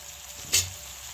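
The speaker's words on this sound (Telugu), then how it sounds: "మనం సన్నగా కట్ చేసి పెట్టుకున్న దోసకాయలు కూడా వేసుకున్నాలి. ఇది కొద్దిగా ఆయిల్లో ఫ్రై చేసుకుందాము." Thinly sliced cucumber (dosakaya) dropped into hot oil, giving a brief close sizzling burst over a steady low frying hiss.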